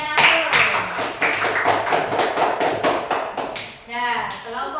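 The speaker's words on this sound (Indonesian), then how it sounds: "Berikan aplaus." Classroom applause for a student group after a presentation in an Islamic studies lesson, a dense burst of many hands clapping together for several seconds, fairly close and loud, with voices mixed in.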